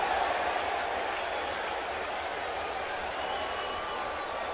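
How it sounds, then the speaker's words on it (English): Large baseball stadium crowd cheering and roaring after a big swing by the hitter Malone, a steady, dense wash of noise filling the whole clip, with a commentator talking over it. "the crowd goes wild"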